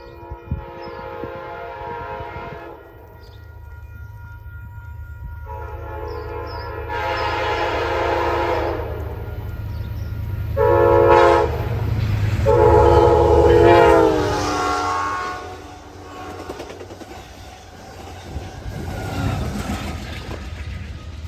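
An Amtrak Downeaster passenger train in northern Massachusetts blasts its horn several times, long and loud, as it rumbles past close by at full track speed and fades away.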